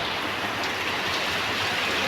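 Rain falls in Jessore, a steady, even wash of drops on the ground and surfaces, continuous and close.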